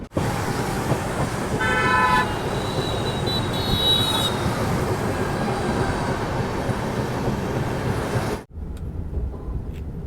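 Amarnath Express passenger train running, a loud steady rumble and clatter of carriages with a horn toot sounding partway through, then the noise drops sharply near the end.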